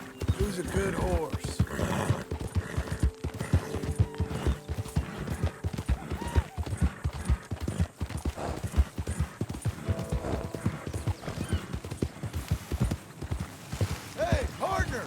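Steady clip-clop of horse hooves in Red Dead Redemption 2 trots along rhythmically, close and prominent, while someone talks over it and a horse briefly whinnies.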